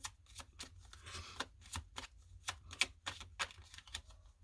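Tarot cards are drawn and laid down one after another, each giving a crisp, close flick or snap in an irregular rhythm, with quiet pauses between the cards.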